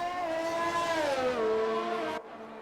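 A McLaren race car engine at Monza in a racing video game, a loud, close high-revving whine sliding downward in pitch as it shifts, then cutting off abruptly near the end.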